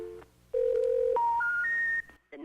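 A sequence of rising electronic telephone tones on a payphone at a corner market, clear and steady, stepping up in pitch one after another before cutting off, with no talking.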